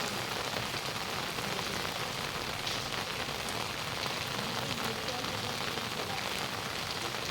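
Steady rain falls outdoors in a village, a dense, even hiss of drops on surfaces that stays constant throughout at a moderate distance.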